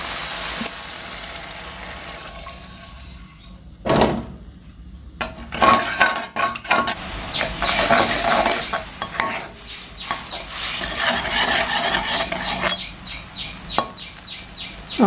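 Water poured into a pot of Thai curry paste frying for a wild jungle curry with small fish, bursting into loud sizzling and bubbling after a quieter start, with utensil scrapes and clinks near the mic.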